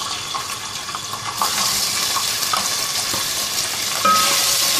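Chicken and small cardamom frying in olive oil in a pan give a steady close hiss and crackle that swells louder partway through, with faint clicks.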